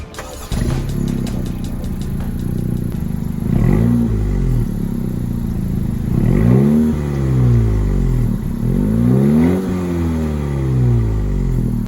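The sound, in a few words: quiet stock car exhaust revving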